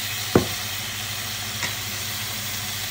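Chicken heart and liver hit a hot pan with a quick clatter, followed by a steady, close frying hiss that carries on without any voices.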